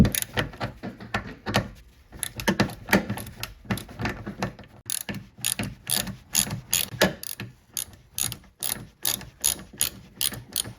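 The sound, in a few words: ratchet with 10mm socket removing Camry mirror bolts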